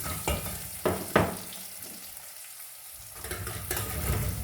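Cumin seeds crackle and sizzle in hot oil in a pan, with a continuous frying hiss broken by a few sharp pops and stirring scrapes, close and fairly loud.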